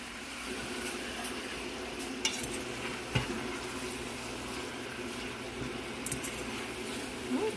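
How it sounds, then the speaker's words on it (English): Meat sears in a pan with a continuous close sizzle, while two forks turn it over, adding scattered light metallic clicks and scrapes against the pan; nobody speaks. "I just want to sear each side for a little bit."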